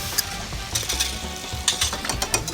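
Butter sizzling in a hot pan while making brisket queso with jalapeño, a steady crackling fry with brief scraping and stirring clatter over it, close and moderately loud, no talking.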